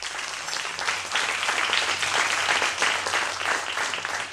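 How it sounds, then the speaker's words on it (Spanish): Steady applause from a church congregation, a dense wash of clapping that holds at an even level throughout. "Dale un aplauso a Cristo."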